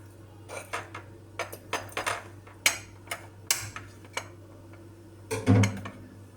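A spoon clinks and scrapes against a dish while scooping soft pumpkin pudding, a close series of sharp taps and knocks spaced irregularly, ending in a louder scrape, with no talking.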